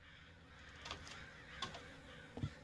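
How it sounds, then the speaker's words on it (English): Several crows caw outside, heard faintly and at a distance over a low background rumble, a few scattered calls spaced across the moment. "I can hear the crows outside going bananas."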